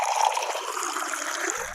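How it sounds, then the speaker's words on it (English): Cooked liquid pours in a steady trickling stream into a mason jar, a continuous close splashing and gurgling that runs unbroken for the whole stretch, with no talk. "we'll pour it into a mason jar."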